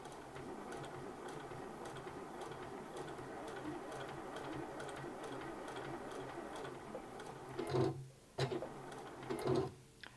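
A sewing machine stitching a hexagon mini quilt runs in a fast, quiet, steady whir with rapid ticking, then pauses and restarts briefly near the end as the fabric is turned.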